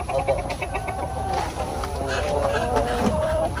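A rooster on a poultry farm clucks in short, repeated calls against a busy farmyard background, with faint voices nearby.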